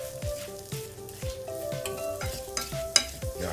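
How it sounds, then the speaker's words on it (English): Seasoned pulled chicken sizzling in a hot pan as it is stirred, a steady close frying hiss broken by repeated scraping strokes of the utensil and one sharp clink. "you can hear it starting to sizzle."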